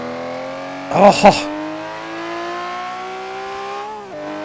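A powerful Lamborghini sports car engine revs and holds a high, rising drone, loud and close, with a brief exclamation from a person near the start.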